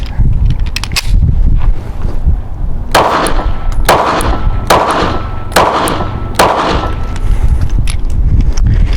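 Several sharp metallic clacks from a Springfield Hellcat pistol slide racked by hand with the slingshot method, arriving in a loose rhythm of about five or six close, loud snaps over a steady background.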